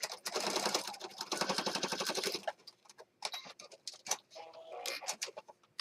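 A sewing machine stitches across fabric on an unfinished journal in a loud burst of rapid needle runs lasting a couple of seconds, then gives way to scattered light clicks and brief shorter runs.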